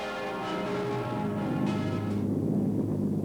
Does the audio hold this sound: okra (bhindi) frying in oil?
no